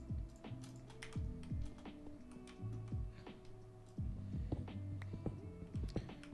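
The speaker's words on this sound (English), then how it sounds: "If I could actually, you know, click things on a keyboard" Keys clack on a computer keyboard in short, uneven bursts of close, crisp clicks, set against a quiet background of sliding, musical tones.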